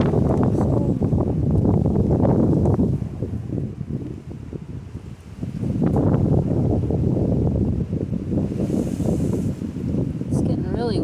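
Strong outdoor wind buffeting the microphone in heavy roaring gusts, loud and close, dipping briefly in the middle before surging again, with a voice speaking at times.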